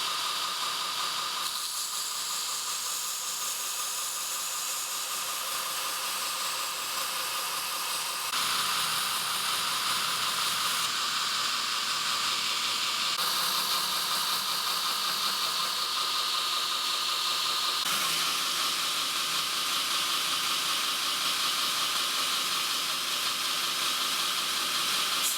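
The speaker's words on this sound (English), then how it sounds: "I'm first going to grind down the bevels with a 120 grit belt and polish it all the way up to a 400 grit belt" A belt grinder with a 120 grit belt grinds the bevels on a mosaic Damascus cleaver blade, a loud, continuous bright hiss that runs steadily for about 25 seconds and shifts in tone a few times as the pass changes.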